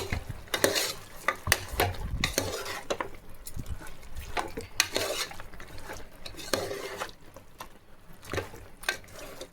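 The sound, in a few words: mutton frying in oil with chili powder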